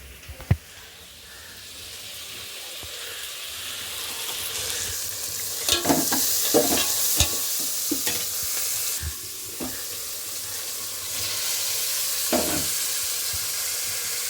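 Egg curry sizzling and frying in hot oil in a home kitchen, with a steady loud hiss throughout and repeated spoon scrapes and stirring clatter over it, no talk.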